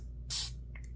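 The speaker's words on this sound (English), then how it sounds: "2 little sprays." Makeup setting spray misted twice from close range: one longer hissing spritz, then a shorter second puff, over a quiet low hum.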